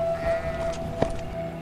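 Sheep in a flock bleating, several overlapping nasal calls close by with one sharp peak midway, set in a short animated children's moral story.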